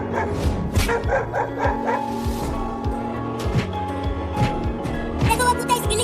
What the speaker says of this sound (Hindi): देखो चिंटू, वो कुत्ते उस लकड़ी के घर के सामने भौंक रहे हैं,